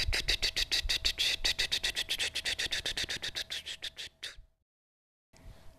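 A voice imitates a rotating lawn sprinkler with a fast string of rhythmic, breathy tch-tch-tch pulses, steady and close, ending abruptly and followed by silence.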